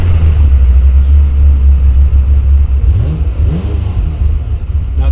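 A Ferrari 355 with its dry-sump 3.5-liter V8 runs at a steady, deep idle, the low rumble loud and close, with a slight change in pitch midway and a faint clink near the end.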